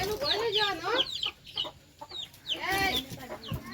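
Chickens and a rooster cluck in repeated bursts on a farm with cows, fairly close and loud, with brief quieter gaps between calls and faint background noise.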